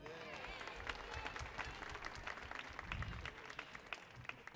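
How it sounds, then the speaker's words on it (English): An audience at a gospel shout band concert claps, dense crackling applause mixed with crowd voices and some low thumps, continuous and fairly loud for the whole stretch. "Clap your hands for yourself."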